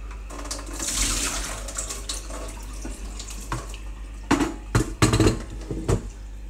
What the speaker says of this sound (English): rinse this jug out a bit